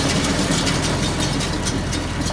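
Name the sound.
tractor engine idling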